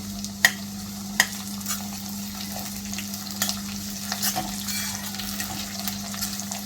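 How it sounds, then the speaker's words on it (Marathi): Curry leaves frying with softened onion in a pan for white pea usal, a steady close sizzle with a constant low hum and a couple of sharp clinks of a utensil, no one speaking. "कांदा आपला इथे मस्त असा मऊ झालेला आहे. आता त्यामध्ये आपण इथे थोडा कढीपत्ता घालून घेऊयात"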